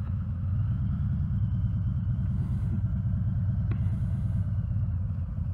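A car passes by on a road, heard as a steady low engine rumble close by, with no talking.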